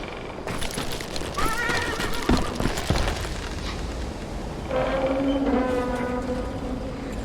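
A horse in the Western shooter Call of Juarez: Gunslinger neighs and whinnies loudly, with clip-clop hooves and game sounds in the background.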